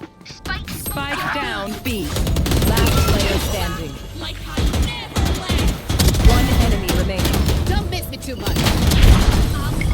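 Rapid bursts of gunfire in Valorant, including a Classic pistol against a Vandal rifle, cracking in quick volleys over loud, excited talk throughout.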